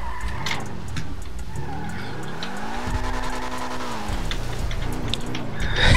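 In GTA roleplay, a video game car drives and skids, its engine note rising and falling while a tire squeal swells and fades, with a steady rain-like patter beneath.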